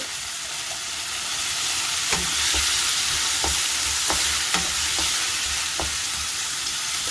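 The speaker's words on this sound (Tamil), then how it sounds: "இப்போ சாட குக் ஆகட்டும் இந்த கேரட்." Carrots and mixed vegetables sizzling and frying steadily in a pan, with repeated scraping clinks of a spatula stirring, close and continuous with no talking.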